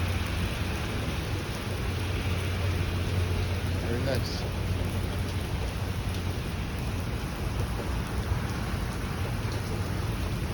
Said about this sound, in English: Wow, the rain is getting even heavier. It's pretty cool. I haven't seen a summer thunderstorm for so many years